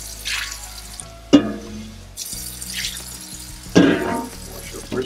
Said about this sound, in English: Wash the pot.